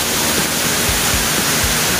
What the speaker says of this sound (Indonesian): Ada air terjun.